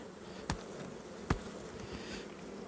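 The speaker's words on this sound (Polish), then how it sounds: "Strzącham pszczoły z niej" Honey bees shaken off a frame from a nucleus hive give a faint, continuous low buzz, with two sharp knocks cutting through.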